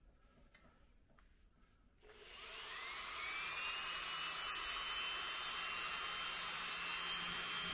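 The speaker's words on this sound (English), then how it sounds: "I'm down to my final flange way to grind." A high-speed rotary tool spins up and grinds steadily with a cutting disc, cutting a flangeway in HO model railroad rail for a diamond crossing. A few faint ticks come first, then a loud, close, continuous whine that holds to the end.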